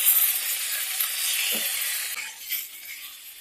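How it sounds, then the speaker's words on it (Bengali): Fried yardlong beans being stirred in a hot frying pan, a steady close sizzle with scraping stir strokes and a brief clatter midway, continuing alone without talk. "এবারে ভেজে রাখা বটবটিটা দিয়ে দেব। এটা একটু নাড়াচাড়া করে নেব।"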